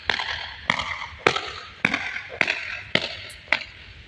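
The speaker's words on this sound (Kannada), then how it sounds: "ನನ್ನ ಫುಡ್ ಸ್ಟೆಪ್ ಹೇಗೆ ಕೇಳ್ತದೆ ನೋಡಿ" Footsteps of a person walking outdoors in Education City, Qatar, land as seven crisp, evenly spaced treads at a relaxed walking pace, close and clear with quiet between steps.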